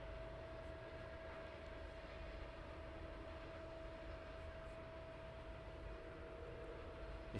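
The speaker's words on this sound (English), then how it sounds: "757 DHL inbound" A DHL Boeing 757 inbound at East Midlands Airport at night comes through as a faint, distant, steady engine drone with a thin sustained tone running through it.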